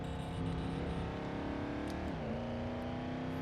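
Engine of an Aston Martin Cygnet V8 in a racing sim game, a steady droning whine holding pitch, then dipping as it shifts and climbing again, heard alone at a moderate, even level.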